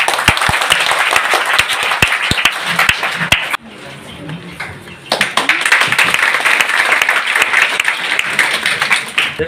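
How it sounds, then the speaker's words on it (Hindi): An audience at a college event applauds loudly with dense, sustained clapping that breaks off briefly into a quieter pause, then resumes strongly and continues to the end. "ताली बजनी चाहिए।"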